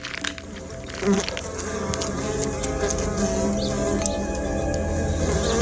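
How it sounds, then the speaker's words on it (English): A steady insect drone of buzzing bees hums close by, continuous and low, with no talking. "There are bees coming from inside."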